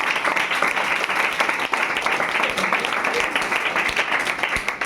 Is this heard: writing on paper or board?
no